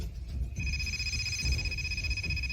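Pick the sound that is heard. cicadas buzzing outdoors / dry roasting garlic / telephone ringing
telephone ringing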